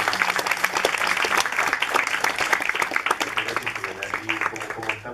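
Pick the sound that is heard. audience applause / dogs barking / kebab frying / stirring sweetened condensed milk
audience applause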